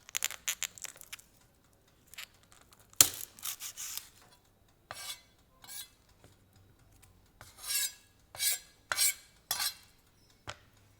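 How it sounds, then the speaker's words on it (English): Knife slicing the top and bottom off a whole head of garlic on a cutting board, a series of short crunchy rasping cuts and scrapes, close and dry with brief pauses between strokes. "Cut off the top and bottom of a whole head of garlic to release its aroma."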